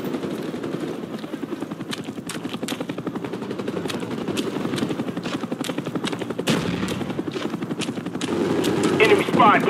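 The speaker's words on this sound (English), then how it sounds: "Friendly Cobra inbound." A friendly Cobra attack helicopter drones through a Call of Duty Black Ops multiplayer match as rapid machine-gun fire chatters in a dense, continuous stream, with sharp louder bursts near the end.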